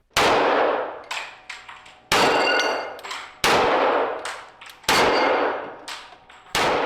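Gunshots at an elite shooting range pavilion, five loud sharp reports spaced roughly a second or more apart, each with a ringing tail and a few quieter clanks between them.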